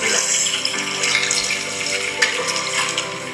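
Hands being rinsed under a running tap, a steady close splash and rush of water that continues without a break throughout.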